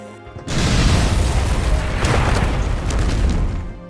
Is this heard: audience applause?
no